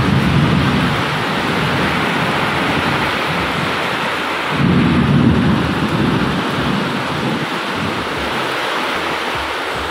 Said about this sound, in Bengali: এত জোরে বৃষ্টি পড়ছে, আর আমার মনে হচ্ছে ছোটো ছোটো বরফ পড়ছে, মানে শিলা বৃষ্টি হচ্ছে বোধহয়